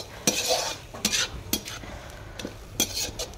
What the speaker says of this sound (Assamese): ভেবেলী লতা, ৰঙালাও আগ একেলগে ভাজি দিলোঁ